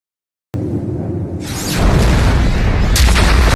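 A huge, loud explosion erupts suddenly at ground surface as a final pillar is brought down, roaring on as a dense, sustained blast with a rushing, crackling tail.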